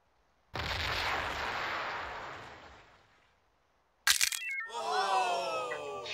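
A stunt explosion in The Movies video game, a loud blast that roars and slowly fades over a few seconds, followed after a brief silence by a sharp crack and a burst of scattered, ringing game effects.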